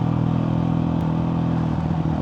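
Honda CRF450RL dirt bike engine decelerating on a steep downhill, a steady close low drone with a faint throttle flutter near the end.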